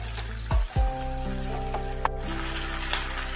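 Potatoes and peas sizzle in oil and are stirred together, giving a steady, moderate hiss with a few scraping knocks over a sustained low humming tone.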